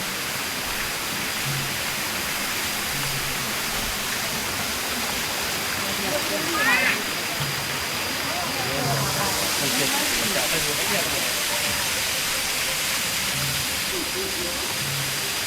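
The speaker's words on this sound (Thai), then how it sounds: "น้ำตก" A waterfall at a forest temple in Vientiane flows in a constant, even rushing hiss, with faint voices and brief chirps underneath.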